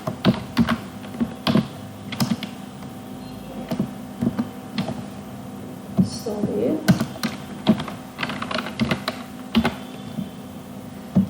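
Computer keyboard keys are tapped in irregular bursts while an ID and password are entered on a staff login page, with brief pauses between runs of clicks and a voice speaking briefly.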